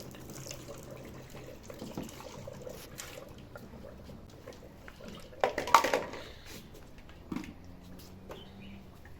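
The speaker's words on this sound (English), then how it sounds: "I'm just going to use warm water to finish rinsing the dispenser." Running hot water splashes and trickles steadily at low volume while a water dispenser is rinsed, with a brief louder gush midway and faint clatter.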